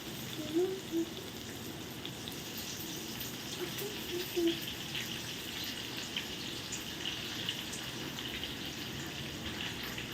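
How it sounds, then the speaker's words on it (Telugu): Dal tempering with spices frying in hot oil in a home kitchen: a continuous soft sizzle and crackle, steady and fairly quiet, with a few faint background sounds and no talk. "పప్పు తాలింపు."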